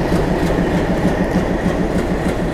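An Indian train rolls past nearby, loud and steady, with rhythmic clickety-clack of wheels over rail joints under a continuous rumble.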